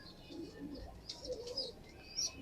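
A zafrani-feathered pigeon cooing softly in short, low murmurs, with a few faint higher chirps, quiet and close against a calm background.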